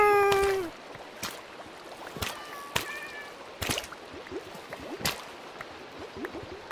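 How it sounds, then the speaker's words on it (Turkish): Cats in the Minecraft video game give one short, high meow at the start, then scattered sharp clicks and splashy game sounds follow over a quiet watery background. "Bak kediler de yukarıda birbirleriyle kavga ediyor."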